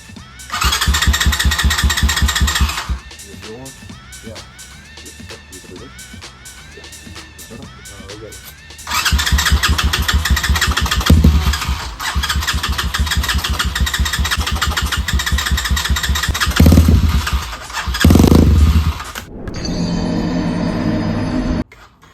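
A Chinese 250cc four-stroke motorcycle engine cranks and catches, then runs with a loud, steady rattling idle and several revving surges, close by; brief voices are heard around it and it cuts off near the end.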